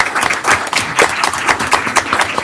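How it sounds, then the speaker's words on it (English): Audience applause at a school district board meeting, a brief burst of clapping from a modest crowd, close and loud, with rhythmic claps standing out. "We can applaud that."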